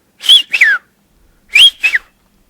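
A whistler from El Hierro uses Silbo whistled language to render the word vino: two clear, sliding two-syllable whistles, close and fairly loud, separated by a short silence, with no talk.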